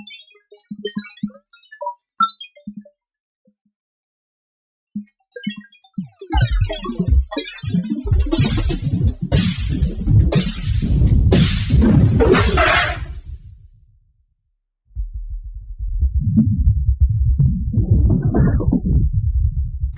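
Ableton Live 11's Spectral Resonator effect processes audio into a loud, dense, metallic ringing wash that swells and cuts out, followed by a quieter resonant tone with a rising and falling pitch sweep, with no voice over it.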